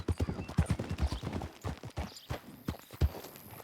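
In Red Dead Redemption 2, a horse's hooves beat out a quick, rhythmic clip-clop of sharp thuds close up, with a faint voice partly audible beneath them.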